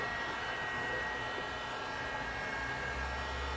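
A heat gun blows hot air over vinyl wrap on a door edge, giving a steady, even, faint airy whoosh with no breaks.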